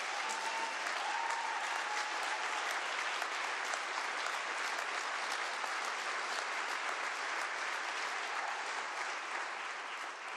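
Legislators fill a joint legislative session chamber with sustained, loud applause during Governor Jay Inslee's State of the State address, a thick, unbroken roar of many hands clapping for about ten seconds.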